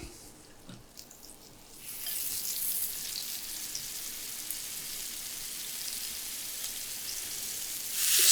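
Peppercorn-crusted steak sizzles in clarified butter in a pan, a steady loud hiss and crackle that swells in after a quieter start and holds, with no talking.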